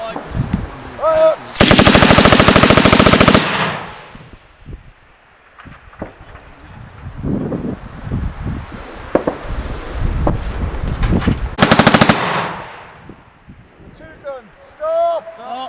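Machine gun bursts from a numbered gun position on a firing range, two long loud sustained volleys near and distinct, separated by quieter stretches with shouted range commands and talk between them.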